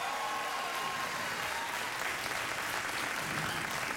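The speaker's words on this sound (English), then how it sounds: "I think you can applaud." Late-night television studio audience applauds in a continuous, even roar of clapping that stays loud and steady throughout, with no voices standing out.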